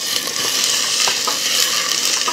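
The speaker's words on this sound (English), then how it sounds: "You want to hear that sizzle so you know the temperature is right." Diced onion sizzles steadily in a warm pot, stirred with a wooden spoon, giving a close, continuous frying hiss with faint scraping strokes and no talking.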